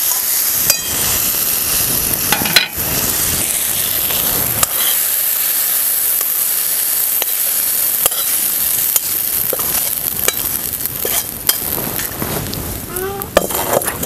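Ridge gourd roasting in a hot pan gives a steady loud sizzle and hiss throughout, broken by occasional sharp crackles and pops.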